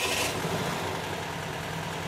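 A carbureted VW 1500 Type III engine idles steadily after starting, a continuous close mechanical rumble with no speech.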